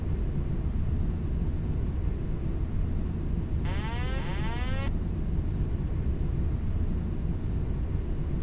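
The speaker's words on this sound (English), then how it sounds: "I just disengaged the autopilot. That was that horn that went off." Autopilot disconnect warning horn sounding in a light aircraft cockpit on approach to a runway, a loud rising warble lasting about a second over constant engine and cabin drone.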